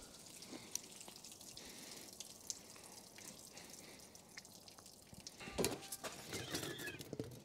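Residual preservative liquid draining from a reverse osmosis system used for maple syrup making, soft irregular drips and trickles close up, with a brief louder splash of flow toward the end.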